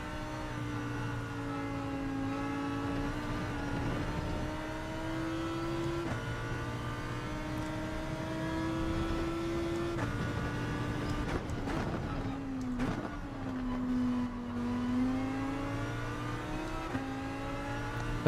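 A Ferrari race car engine in Gran Turismo 7 holds a steady, loud in-car drone, pitch climbing slowly through long gears with short dips at shifts and a brief lift around a corner.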